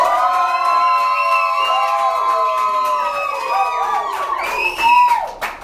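A crowd cheers and whoops loudly in a clap-off vote for Logan, many voices shouting together in sustained rising and falling tones that swell again near the end.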